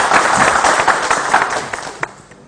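Lively applause for a singer, a music teacher, dense close clapping from a small audience that fades out with a few last claps.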